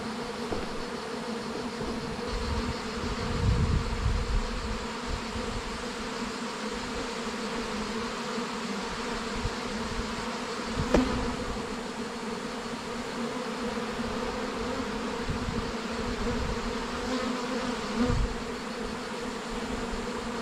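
A swarm of honeybees drones continuously as it is collected from a tree by beekeepers, a dense, steady buzz with occasional soft knocks and rustles.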